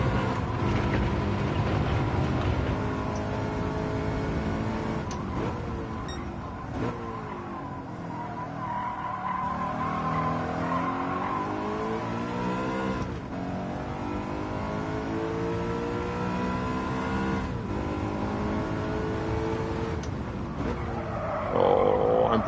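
BMW M3 race car in Gran Turismo 7 lapping the Autopolis circuit, engine droning and revving continuously with repeated rises and falls through gear changes, tires squealing at times, loud and close throughout.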